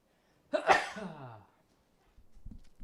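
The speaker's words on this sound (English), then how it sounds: "I'm about to sneeze" A single loud sneeze bursts out sharply and fades over about a second, followed by quiet and then some low, faint rustling.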